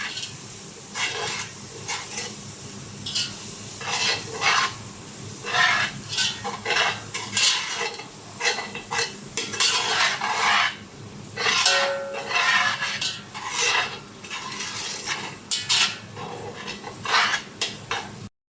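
A utensil scrapes and clatters in a pan as coriander powder is stirred into a channa masala base, with continuous close scraping and a faint sizzle beneath.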